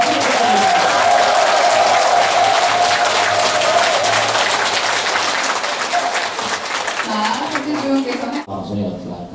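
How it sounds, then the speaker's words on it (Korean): Audience applause and cheers fill a Buddhist Broadcasting System 25th anniversary ceremony hall, dense and loud for most of the stretch, with a voice talking over it before the clapping thins and stops near the end. "다시 한번 함성과 박수 부탁드립니다"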